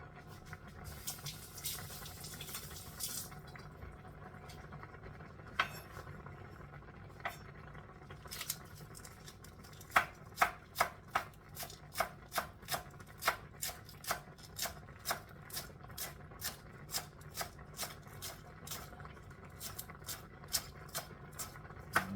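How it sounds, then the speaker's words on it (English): A knife finely chops scallions on a board in a steady series of sharp, close taps that quicken into an even rhythm, over a faint background of kitchen noise. "So I cut up my scallion real fine guys."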